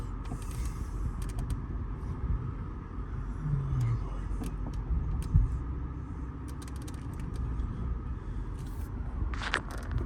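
A car rolls along with a low, steady engine rumble and road noise, a few faint creaks and clicks over the drone.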